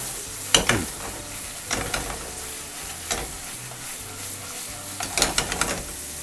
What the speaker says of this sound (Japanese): トマトをひっくり返していきます